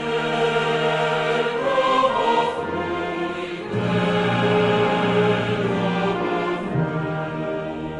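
Orchestral performance of the Czech national anthem, with sustained brass and strings playing a stately, anthem-like melody, steady and full throughout.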